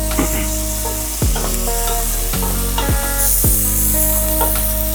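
Steady sizzling of food frying in a pan, with occasional scraping stirs and clinks, close and fairly loud throughout.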